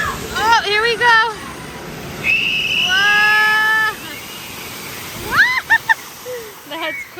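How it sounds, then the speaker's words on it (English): A large tipping bucket at Knott's Soak City water park dumps water that splashes down in a broad, loud rush, mixed with excited voices and squeals from people nearby. "when you hear that sound, it's time for this to splash on down"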